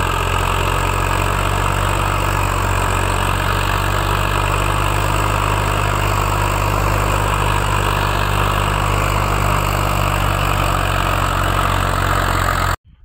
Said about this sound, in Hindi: शेर सा धाड़ रहा ट्रैक्टर का